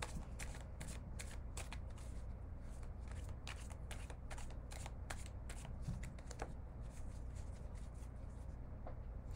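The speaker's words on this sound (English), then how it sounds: "Okay, let's do another shuffle." Playing cards being shuffled over and over in a steady run of crisp riffling bursts, close and continuous, with a low background hum underneath.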